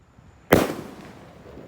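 Bima Sakti 4 firework launches with a single sudden loud burst and a hissing, fading tail in an outdoor setting, with no talk over it.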